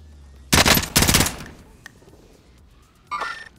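Machine gun fire in Call of Duty Warzone: two loud, close bursts of rapid shots back to back, then a quieter lull and a short, softer burst at the end.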